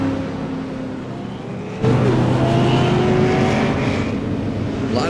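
Stock car racing at Lucas Oil Raceway: engines drone at a distance, then a car roars close past and keeps accelerating, the loud engine noise holding steady to the end.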